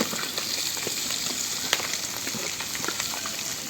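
Eggplant slices frying in oil with salt and chili powder, a steady close sizzle with small crackles and pops throughout, no voices.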